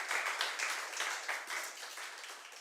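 Rapid, dense clapping from a church congregation praising God fills the space, steady and lively throughout with no break.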